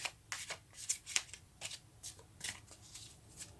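Close, crisp riffling of tarot cards being shuffled, a run of quick papery bursts in an uneven rhythm.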